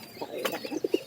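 Pigeons kept as pets or for breeding give soft, low cooing calls close by, several short rounded coos in quick succession, with faint rustling between them.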